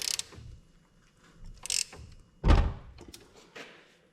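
A ratchet clicks and clunks while tightening the front axle of a 2002 Yamaha Kodiak 400 ATV, with short bursts of ratcheting and a heavier metallic thunk, close up in a quiet workspace.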